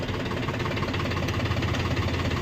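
A Mahindra 405 tractor with a 40 hp engine runs with a Shaktiman Regular Plus 42 rotavator attached, giving a loud, steady, close diesel drone with a rough, knocking texture throughout.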